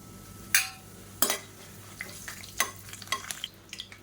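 Curry leaves and whole spices such as cinnamon, cloves, cardamom and star anise hit hot oil in a pressure cooker for chicken biryani, giving sharp sizzling bursts and clinks of a spoon against the metal pot.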